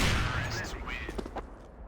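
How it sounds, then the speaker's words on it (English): An AWP sniper rifle fires in CS:GO on Dust2: a single loud, booming report opens and rings out, with a voice talking over the fading tail. "I'm just going to pick up his AWP and I'm going to shoot him in the back"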